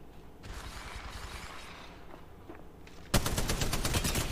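Gunfire in Apex Legends Mobile, with a few scattered shots and then a loud, close burst of rapid automatic fire that cuts in sharply near the end.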